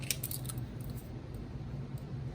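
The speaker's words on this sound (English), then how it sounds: "Let me just grab a pair of scissors." A pair of scissors snips through twine in a few quick, close cuts at the start, followed by quiet handling noise and a low background hum.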